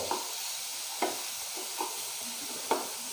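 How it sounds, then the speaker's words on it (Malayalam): A spoon stirs onion and salt in a frying pan for tapioca cutlets, giving a few soft scrapes over a faint, steady sizzle. The sound is quiet and close, with no talking. "ഉപ്പൊക്കെ ഒന്ന് നന്നായി മിക്സാക്കി കൊടുക്കുന്നുണ്ട്"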